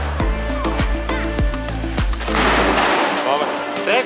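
Diwali firecrackers, flowerpot crackers that burst like bombs after not being sun-dried, explode in a rapid series of sharp, loud bangs followed by crackling fizz and debris.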